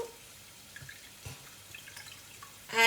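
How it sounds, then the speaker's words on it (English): Water poured from a tap or vessel into a pot of pepper water, faint splashes and drips building to a louder gush at the end, no talk. "add more water to dilute."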